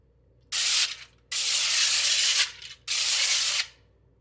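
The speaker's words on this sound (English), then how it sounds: "we're going to spray some cooking oil onto the aluminum tinfoil" Three hissing bursts of aerosol cooking oil spray onto aluminum foil in an air fryer, each a second or so long, sprayed up close with brief pauses between.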